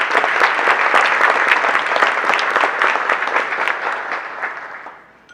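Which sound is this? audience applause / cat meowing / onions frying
audience applause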